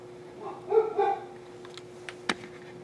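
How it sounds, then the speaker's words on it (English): A dog gives a couple of short barks indoors, moderately near, followed by a few faint clicks and taps in a quiet room. "Sorry, had a dog barking."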